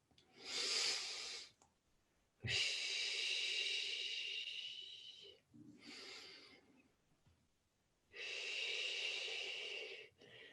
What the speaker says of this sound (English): I am breathing in. As you breathe out, I am breathing out.